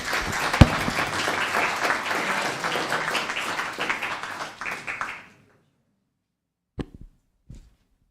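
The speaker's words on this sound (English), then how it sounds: "If we could have a round of applause for Jim." A round of applause from the audience at a town council meeting, a steady clapping crowd that fades out after about five seconds, followed by silence broken by a few faint scattered taps and knocks.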